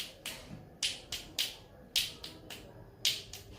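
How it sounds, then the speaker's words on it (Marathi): A performer claps with one hand, producing a series of about eleven sharp, dry snapping claps at an uneven rhythm, close and fairly loud against a quiet background with no talking. "एका हाताने कशी टाळी वाजते?"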